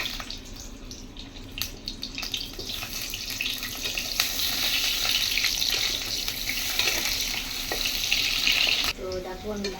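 Potatoes fry in hot oil in a kadai, giving a continuous hissing sizzle that grows louder and fuller partway through, with a few clinks and light handling noises.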